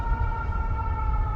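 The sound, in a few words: siren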